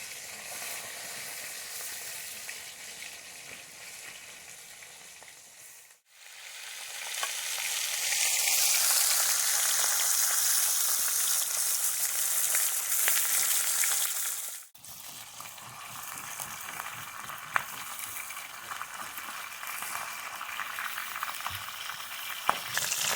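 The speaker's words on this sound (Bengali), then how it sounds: "মাছগুলো ভাজা হয়ে গেছে" Fish fry in hot oil in a pan, a continuous close sizzle that swells louder midway as pieces are turned and stirred, then settles to a softer crackle.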